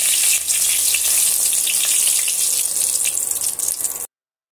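A bay leaf sizzles in hot mustard oil as tempering in a pan, giving a steady bright crackling hiss that holds loud and even for about four seconds before cutting off abruptly.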